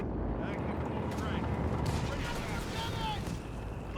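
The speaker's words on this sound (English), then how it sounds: "Now they're just going to get shot out of the sky here by the M16." Rapid anti-aircraft fire from an M16 halftrack in Company of Heroes 3 rattles continuously amid dense battle noise and explosions, with a commentator talking over it throughout.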